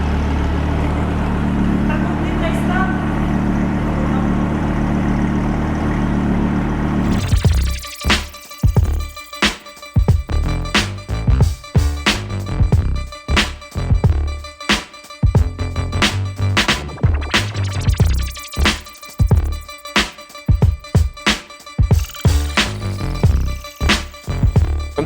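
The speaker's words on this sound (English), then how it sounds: "Nice V10 sound with a very big Audi grille." An Audi R8 Spider's mid-mounted V10 first idles with a smooth, steady drone, then bursts into a series of sharp, loud revs and crackling blips in an uneven rhythm, close by with faint voices in the background.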